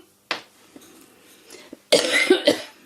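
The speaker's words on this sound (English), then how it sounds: "I'm still coughing, sorry." A person coughs, one sharp cough and then a few smaller throat sounds, followed by a louder burst of rough coughing near the end, close and clear without talk.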